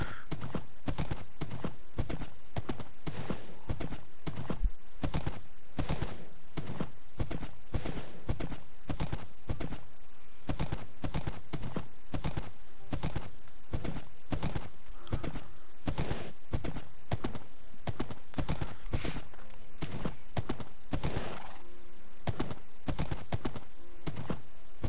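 A horse in Minecraft trots steadily, giving a long run of rapid, even clip-clop hoofbeats that continue without pause at a constant close volume.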